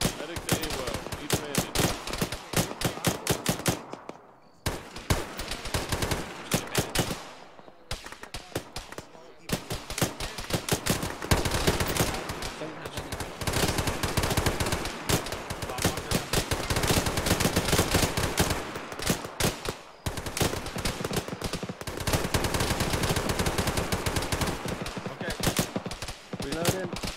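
Sustained gunfire in a firefight in Arma, rattling bursts and single shots packed densely through most of the span with brief lulls, loud and close, with occasional voices mixed in.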